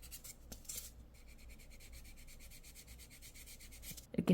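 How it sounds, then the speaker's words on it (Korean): A nail file sands along the cuticle line of a fingernail before gel application, producing a fast, even run of close, dry rasping strokes that stop abruptly. "이럴 때 파일로 갈아도 돼요. 너무 많이 갈지 마시고 이렇게 샌딩 거친 부분 있죠?"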